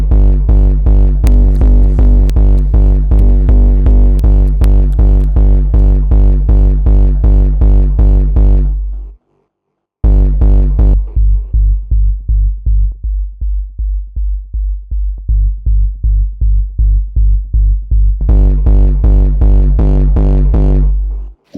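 A Punchbox-synthesized kick drum with a booming sub-bass tail pounds in a loud, steady four-on-the-floor pattern, stopping briefly, then returning thinner before the full tail comes back.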